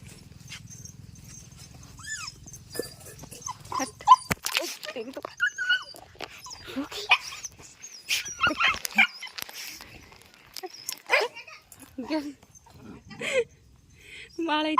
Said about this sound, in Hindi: देखो भाई दोनों कुत्ता कैसे लड़ रहे हैं